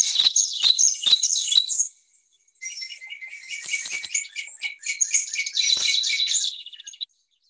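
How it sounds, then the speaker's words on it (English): Wild birds calling in springtime at a nature area, a close, clear run of high chirps and twittering trills with a brief pause midway, alone with no talk. "So bird species make all different types of noises to attract mates."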